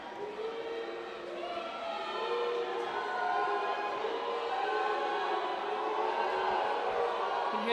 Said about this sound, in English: You can hear the fans booing Griffin Ligare